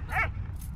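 A dog in the Valiant Hearts video game gives a single short, sharp bark, near and clear, followed by a faint higher yip.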